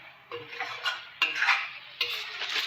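A spoon stirring fried chicken with coriander, chicken masala and kasuri methi in a pan, heard as three bursts of scraping and clinking, close and fairly loud, with nobody talking.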